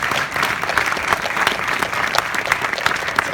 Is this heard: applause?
yes